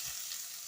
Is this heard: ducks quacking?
no